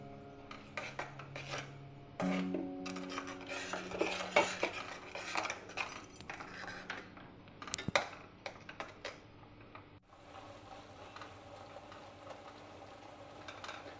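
Metal spoon scraping and clinking against a pan while jaggery and coconut are stirred together for kozhukatta filling, a run of close, irregular scrapes and taps with no talking.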